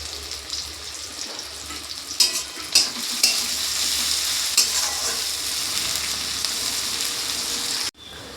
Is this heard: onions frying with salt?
yes